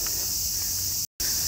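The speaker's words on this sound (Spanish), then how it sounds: "esos sonidos son de las cigarras" Cicadas chirring on a summer afternoon near a cable car station at Gifu, Japan, a dense continuous high-pitched drone holding steady throughout, broken only by a brief dropout near the end.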